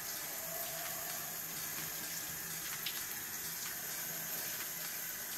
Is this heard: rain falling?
no